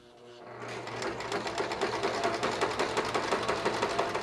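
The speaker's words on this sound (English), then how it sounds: "start by doing a zigzag stitch or serger overlock, something to finish the edges all the way around the edge of the piece" A sewing machine zigzag-stitches around the edges of a fabric piece for a market bag, starting up after a quiet moment and settling into a fast, even, rhythmic mechanical chatter close by.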